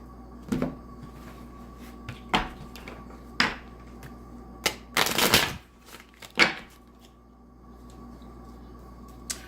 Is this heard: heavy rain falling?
no